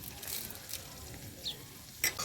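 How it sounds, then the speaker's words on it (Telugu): Curry leaves sizzle in hot oil with egg curry nearby, giving a soft steady crackle with faint stirring and a couple of light metal taps, quiet and close. "ఇప్పుడు అట్లే 2 రెమ్మలు కరివేపాకు వేసుకుందాం"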